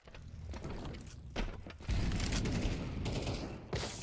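Counter-Strike gunfire during a Legacy vs Liquid IEM Rio 2024 qualifier match crackles in rapid bursts of shots, loud and close, alongside mechanical clicks, with no talk over it.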